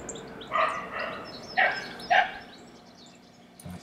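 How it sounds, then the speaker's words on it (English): Four sharp dog barks ring out at a distance, spaced in two pairs, fairly faint against a quiet background. "Don't think the dogs like that."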